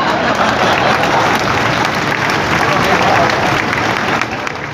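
An audience at a Hindi poetry recital (kavi sammelan) in Raigarh breaks into loud, sustained applause, dense clapping from a large crowd that holds steady for several seconds before easing slightly.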